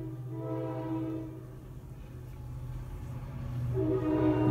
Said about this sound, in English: Just let the train go by.